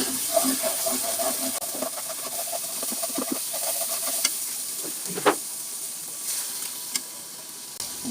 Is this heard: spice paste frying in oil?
yes